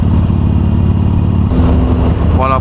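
A Harley-Davidson Sportster Iron 883 motorcycle engine runs loud and close with a deep, throbbing low rumble, shifting in tone halfway through as it revs, and a brief tonal squeal near the end.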